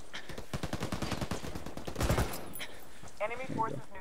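Dense automatic gunfire in Ghost Recon Wildlands ranked PvP, with rapid overlapping shots in a steady burst and a louder blast midway, followed by a brief distant rattle of shots.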